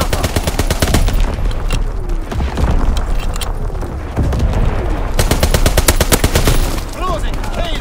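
An artillery barrage rumbles through a Call of Duty WWII multiplayer match, with rapid machine-gun bursts, gunfire and deep booms packed together loudly and continuously, while a radio voice calls out in the background.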